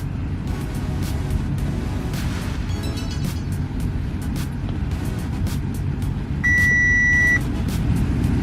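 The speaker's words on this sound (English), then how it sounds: "And exactly what we should hear, a couple beeps." An Audi B8 S4 dashboard gives a single steady electronic beep lasting about a second, heard over a low interior rumble with faint ticking while an ECU tune downloads.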